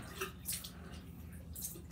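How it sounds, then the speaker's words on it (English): Water running from a tap and splashing onto a hand and a paper towel, with soft irregular splashes and drips close by and no voice. "There, water's coming out."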